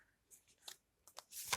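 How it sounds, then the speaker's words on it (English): Quiet tarot cards are shuffled in a few soft riffling bursts, close and faint, with brief pauses between the rustles. "I'm just gonna shuffle"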